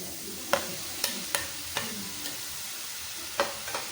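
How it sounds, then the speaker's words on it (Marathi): Cooked brinjal being mixed and pressed into bharit, heard as a few soft, sharp taps and squelches at irregular intervals, fairly faint over a steady low background hiss. "आता याला सगळं मिक्स करून घ्यायचं एकदम प्रेस करून असं याला एकजीव करून घ्यायचं"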